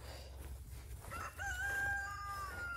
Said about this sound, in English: There's a chicken up there on the gate.